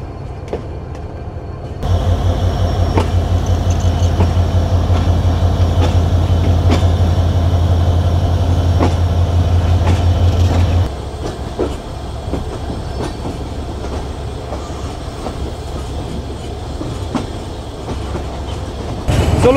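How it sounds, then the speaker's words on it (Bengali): The Kapotaksha Express intercity train pulls out of platform 2 at Khulna railway station with a loud, steady rumble and rhythmic clatter of wheels, which then gives way to a quieter rolling hum. "আমাদের সফরসঙ্গী আন্তনগর কপোতাক্ষ এক্সপ্রেস তার যাত্রা শুরু করলো"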